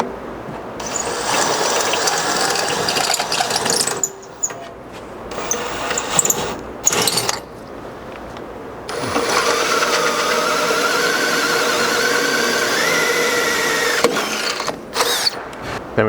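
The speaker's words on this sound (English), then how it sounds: "switch to a full-size 7/16 drill bit to finish out these holes" A power drill with a 7/16-inch bit grinds steadily through metal skid plate mounting holes on a 100 Series Land Cruiser, whirring and chattering with a few short pauses between bursts, close and loud.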